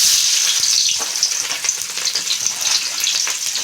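Spicy puffed rice and green chillies frying in hot oil, a loud, dense crackling sizzle that starts strong and settles into a fluttering, uneven hiss close to the pan.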